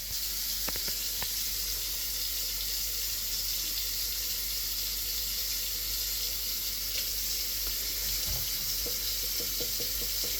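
Water rushes steadily from a kitchen supply tap, a constant hissing flow that runs without pause throughout, close and even, with a few faint knocks in the background.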